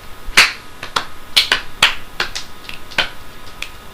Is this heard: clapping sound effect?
yes